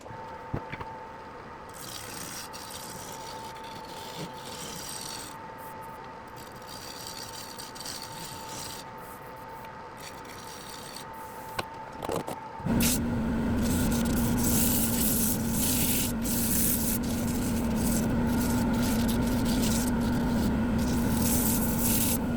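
Black walnut turning on a lathe under 80 grit sandpaper makes a steady, loud abrasive rasp. It grows rougher and louder partway through and continues without a break, with no talking.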